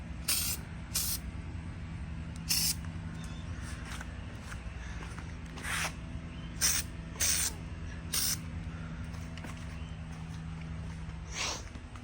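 Short bursts of spray paint hiss onto motorcycle clutch parts, about eight separate puffs spaced irregularly and heard close, over a low steady background hum.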